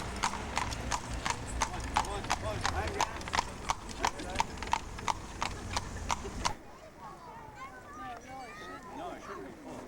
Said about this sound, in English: This little town has lots of little horse and buggies that take tourists around.